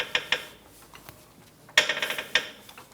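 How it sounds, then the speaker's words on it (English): A torque wrench tightens a suspension nut on a 2005-2010 Chrysler 300 front end, giving a few sharp ratcheting clicks close by, in short bursts separated by pauses, without speech. "Let's torque this nut."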